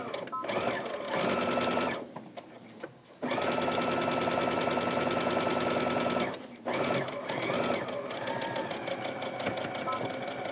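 A sewing machine stitches a seam on a fabric book cover in fast, steady mechanical runs, pausing briefly twice before starting again, loud and close.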